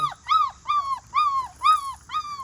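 Five-week-old puppies whimper and yip in a steady series of high, whiny cries, about six in a row, close by with no talking.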